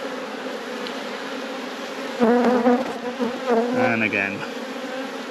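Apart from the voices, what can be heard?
honey bees buzzing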